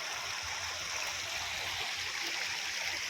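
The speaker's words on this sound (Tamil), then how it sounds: "நடப்பாதையிலே ஓடி அப்படி இறங்குது பாருங்கள்." Water streaming down a footpath on a government orange and vegetable farm in Nelliyampathy, a continuous hissing, gurgling rush that holds steady throughout with no voices.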